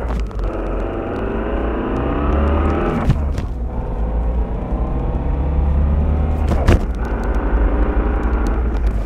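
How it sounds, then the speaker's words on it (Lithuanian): A BMW driving with an unusual noise from its gearbox, a loud steady drivetrain drone with rising and falling whine as speed changes, with a couple of brief gear-change breaks. "parodysiu, kas per garsai iš tos dėžės sklinda"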